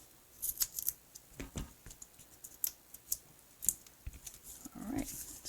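Scissors cut through cardstock for a shaped birthday card in a handful of crisp, close snips spread over a few seconds, with quiet pauses between cuts.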